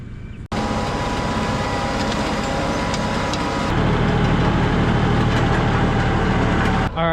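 A farm tractor pulling a cultivating bar across a field for a first pass, its engine droning loud and close, with a shift to heavier low rumble partway through.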